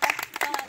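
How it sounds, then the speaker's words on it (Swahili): An audience claps in a brief burst of scattered, uneven hand claps at a Swahili-speaking gathering, moderately loud and close, with no voices over it. "Nipigeni makofi."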